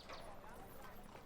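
Horse hoofbeats in the video game Imperium Surrectum, a steady clip-clop running through the whole short moment, partly buried under people talking.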